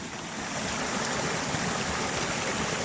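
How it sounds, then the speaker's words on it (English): Steady broadband rush of a waterfall beside a creek in the California gold country, loud and continuous with no breaks and no voices. "that waterfall makes a little noise"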